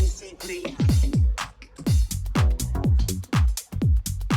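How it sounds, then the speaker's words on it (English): A weird beatboxing vocal loop with vocoder processing from a sample pack, built for minimal house, repeats punchy, clipped mouth-percussion hits with deep thumps and breathy bursts in a tight, fast pattern. "It's just this weird vocal loop"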